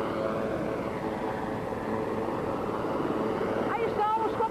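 A helicopter lands at a heliport right beside the stage at the 1985 Rock in Rio festival, a loud, steady engine drone that fills the whole stretch while someone narrates over it.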